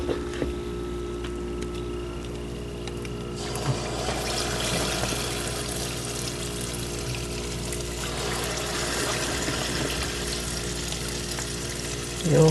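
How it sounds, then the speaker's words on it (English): Cameroon-style puff puff dough deep frying in hot oil, a continuous dense sizzle and bubbling crackle, close and steady, with a slight rise in intensity partway through and no voices. "you have to do this until the batch is all done, until you're done with your frying."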